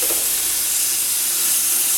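Basting sauce sizzling on Greek souvlaki meat skewers over a barbecue grill, a steady close hiss with no talk.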